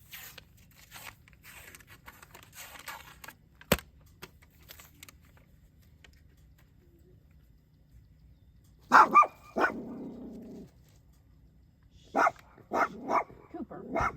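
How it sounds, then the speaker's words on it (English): A dog barks during van life, first with scattered faint sounds, then loud sharp barks in a short cluster, followed by several more separate barks close by. "You don't need to bark at people."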